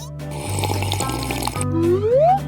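Liquid runs from a small tap on a drink container, a loud, close gurgling stream that briefly pauses and then resumes with a rising filling tone, without talk.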